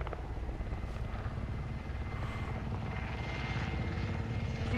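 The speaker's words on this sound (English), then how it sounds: "There's that chopper." A helicopter in an online multiplayer shooter game, its rotor thumping steadily at a moderate distance as a continuous drone for several seconds, no talk.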